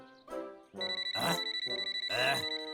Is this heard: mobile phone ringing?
yes